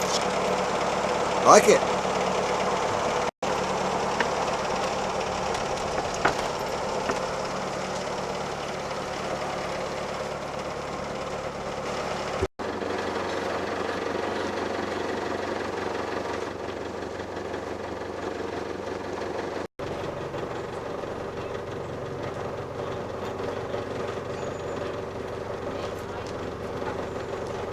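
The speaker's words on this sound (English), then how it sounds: "Engine just above idle, but we're moving really beautifully." A narrowboat engine runs steadily just above idle while cruising on a canal, a low continuous chug under the whole stretch with people talking over it.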